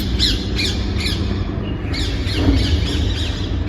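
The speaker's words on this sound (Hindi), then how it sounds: "चिड़िया चहकने की आवाज आ रही है।" Several harsh bird squawks and calls repeat in short bursts over a low outdoor rumble, fairly close, with no one speaking.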